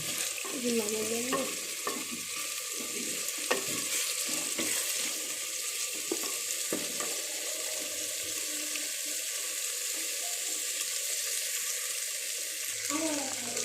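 Tomatoes and onions fry in a clay pot while chicken curry is being made. A soft, steady sizzle continues throughout with occasional stirring scrapes, and faint tonal sounds drift in at the start and end.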